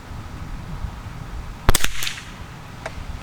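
A 1920s Savage Model 25 .22lr rifle fired outdoors from a loosely rested tripod: one sharp crack followed by a quick second report, then a fainter shot a second later.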